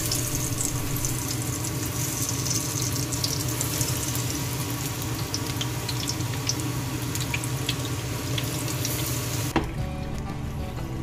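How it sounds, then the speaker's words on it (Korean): Battered king black tiger shrimp deep frying in a pot of hot oil give a steady, dense crackling sizzle with scattered pops, continuous and close, with no voices. "온도가 올랐으면 새우를 한 마리 한 마리 반죽을 묻혀서 기름에 넣어주면 됩니다."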